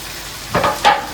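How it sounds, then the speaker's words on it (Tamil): Paneer cubes dropped into hot masala in a pan, giving two short bursts of sizzling and stirring close by, with no one talking. "இப்போ நம்ம வந்து கட் பண்ணி வச்சுக்கிற பன்னீர் அப்படியே சேர்த்துக்கலாம்"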